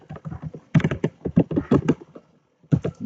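Rapid keyboard typing up close, with clusters of soft clicking keystrokes, a short pause, then a final burst of taps.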